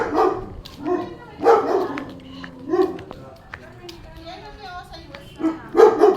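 A big dog barks in several loud, close bursts spread through the moment, with people talking around and between the barks outdoors.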